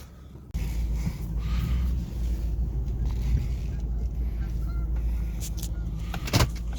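Nissan Titan pickup truck on the road, a steady low engine and road rumble starting abruptly and continuing close and even, with a brief louder swell near the end.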